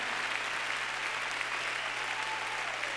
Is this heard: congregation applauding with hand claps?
yes